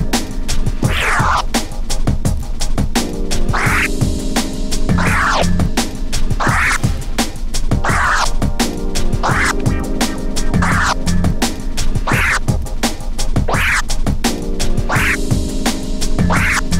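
Reverse scratches on a turntable cut over a steady beat, with short sweeping swipes recurring roughly every second and a half above the continuous loud backing rhythm for the whole stretch.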